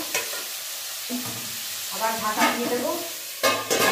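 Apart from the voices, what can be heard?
potatoes frying and being stirred in pan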